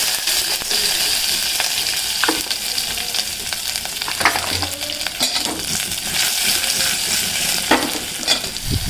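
Garlic frying in hot oil with mustard seeds, cumin and curry leaves for a kadhi tempering, a loud continuous crackling sizzle close up with scattered pops and spoon stirring clicks, no voices.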